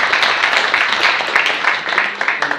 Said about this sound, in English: I'd like to give another round of applause to our presenters.